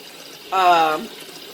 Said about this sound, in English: I like to fill up the water to about like almost